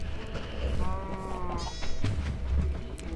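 Sheep in Minecraft bleat in a couple of short wavering calls over steady low game ambience, with no talking.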